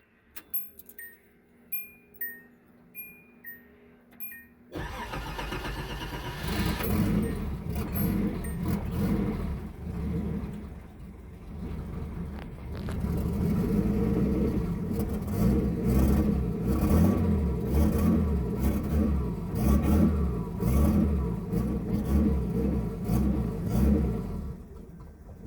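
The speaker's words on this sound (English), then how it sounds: "why it starts and idles a little bit funky" A turbo Datsun engine cranks with a ticking starter, catches and fires into a rough, uneven idle that swells and settles, a loud close mechanical rumble with faint chiming beeps before the start.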